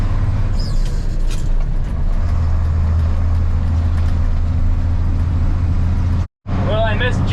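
A vintage service truck pulling a 5,000-pound final drive climbs a hill in second gear at about 20 mph and 2,000 RPM, its engine a steady, loud low drone throughout that cuts out briefly near the end, where a voice is heard.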